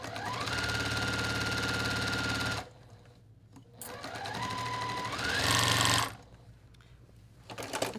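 A walking-foot sewing machine stitches a quilt top in two loud, fast runs of rapid mechanical whirring, broken by a short quiet pause and ending in quieter handling noise.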